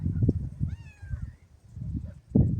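Up in a tree, a cat gives one thin, rising-and-falling meow over low rustling and muffled background noise, fairly faint and brief.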